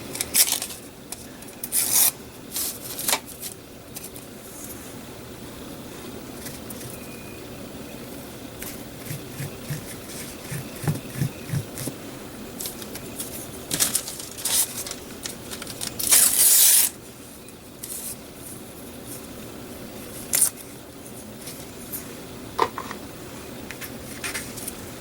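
Tissue paper is crinkled, rubbed and torn by hand for a craft project, a close run of rustling scrapes and sharp tearing bursts with brief quiet gaps between them.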